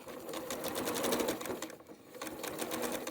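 A sewing machine stitches quilt block pieces in a steady, fast, quiet mechanical whir with a brief slowdown midway before continuing.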